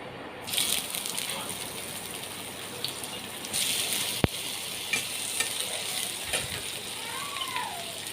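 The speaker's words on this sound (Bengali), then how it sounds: "আলু ভাজার পর এবার এঁচোড়গুলো ভেজে নেব।" Green jackfruit pieces sizzle in hot oil in a kadai, a steady broadband crackle with a sharp utensil click midway and light stirring scrapes, close and moderately loud, with no voices.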